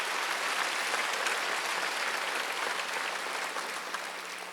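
A church congregation at a Korean Wednesday worship service applauds in a sustained, uniform roar of many hands, steady throughout and tapering slightly at the end, with no speech over it.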